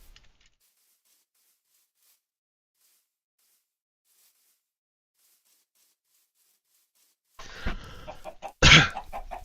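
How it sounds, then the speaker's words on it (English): Video game chicken clucking from Minecraft, a couple of short close clucks and a squawk bursting out after a long silence near the end. "Chicken."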